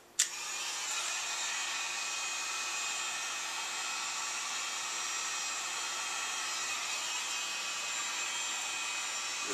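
A heat gun gently warms a wooden bow stave, giving a click and then a constant, fairly quiet blowing hiss and hum that runs evenly on its own.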